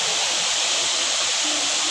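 The Tat Yueang waterfall pours without a break, heard from a viewpoint as a steady, loud, hissing rush of falling water with no talking.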